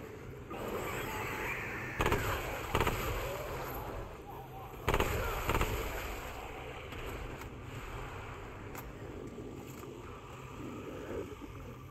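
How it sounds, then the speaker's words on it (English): Explosions in the video game Remnant 2 on the N'erud world: several sharp, loud booms arrive irregularly, two bunched near the start and two more in the middle, over a rumbling game soundscape. "These things explode."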